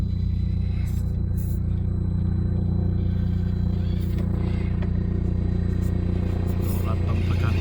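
FCX24 Unimog RC crawler on Injora 64mm Swamp Claw tyres, its small electric motor whining steadily and close throughout, with faint scrapes and clatter from the chassis and bumper catching on terrain.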